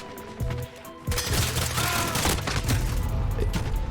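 Rapid pistol gunfire in the video game Call of Duty Modern Warfare (2019), with a dense clatter of shots and impacts over a low rumbling game soundscape, loud and continuous, with faint voices underneath.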